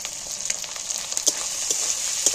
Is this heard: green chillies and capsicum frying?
yes